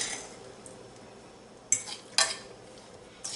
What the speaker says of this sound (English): So I just have to stir them up